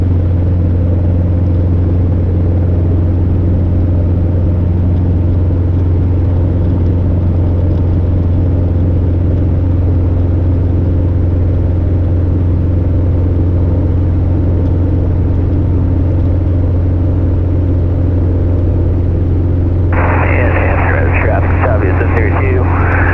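A Robinson R22 helicopter lifting off into a hover over an airport taxiway, with a loud steady engine and rotor drone throughout and a cockpit voice talking over it, plus a brief burst of higher noise near the end.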